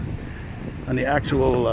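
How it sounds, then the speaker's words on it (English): Wind buffets the microphone with low rumbling gusts, then a person speaks briefly over the blustery noise. "it's getting a little windy here"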